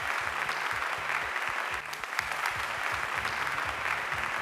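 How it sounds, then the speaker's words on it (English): Audience applause at an award ceremony for the Singapore Ceylon Tamils Association centenary, a steady, dense round of clapping from a crowd that holds evenly throughout with a brief dip midway. "A bigger round of applause, please, ladies and gentlemen."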